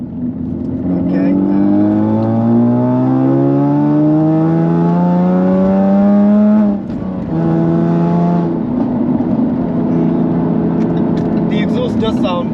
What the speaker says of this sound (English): The exhaust does sound theatrical.